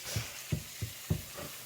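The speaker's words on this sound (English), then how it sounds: "my carrots, and my thyme in my hot oil and coconut oil" Green onions, carrots and thyme sizzle in hot coconut oil for Jamaican-style patty filling, with a steady frying hiss and four soft periodic thumps of stirring, close and moderately loud, no talk.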